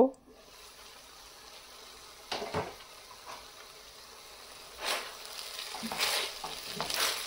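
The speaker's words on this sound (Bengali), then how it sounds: "নেড়ে দেব।" Food sizzles faintly in a pan as it is stirred with the lid off, a few scraping strokes rising above a quiet, steady frying hiss.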